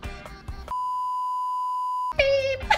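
A single steady electronic beep holds for over a second, sharply cutting between bursts of talk before and after.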